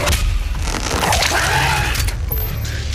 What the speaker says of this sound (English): the way to stagger a cacodemon is, are you ready for this? You shoot a grenade into its mouth.